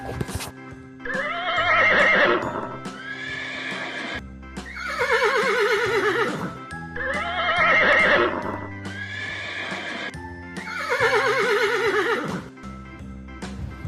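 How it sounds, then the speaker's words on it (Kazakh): A horse whinnies four times in long, quavering neighs spaced a couple of seconds apart, loud and close, with light hoof clip-clops and soft background music underneath. "жылқы"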